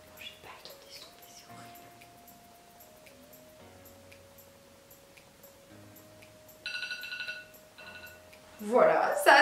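A timer alarm rings at the end of a round in a makeup challenge, a short bright electronic tone burst near the end, with talk running throughout beneath a steady background tone.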